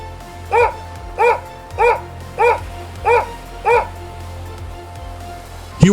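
A small dog barks six times in a steady, even rhythm, each bark short and bright, with a quiet background between them.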